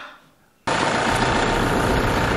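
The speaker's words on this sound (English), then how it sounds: "There it is, our new tractor." A new farm tractor engine starts up abruptly after near silence, then runs at a steady, loud, even drone with a deep rumble, no voices over it.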